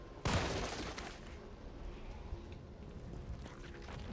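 A single loud gunshot fired in Resident Evil 3 Remake, a sharp close blast at the start that rings into a rumbling, noisy game background with no talk.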